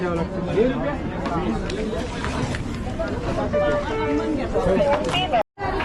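A busy crowd at Shirgaon Sai temple makes a close, steady murmur of many overlapping voices, with nearby chatter layered on top.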